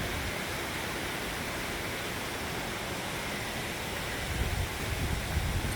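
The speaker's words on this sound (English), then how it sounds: "And waterfalls." Waterfalls on the Great Rigg fell, heard as a steady broadband rush of falling water, continuous and moderately distant, with no voices.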